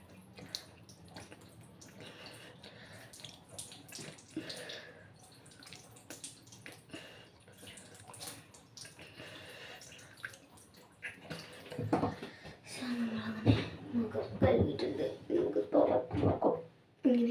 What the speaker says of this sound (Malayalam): മുഖം കഴുകണം.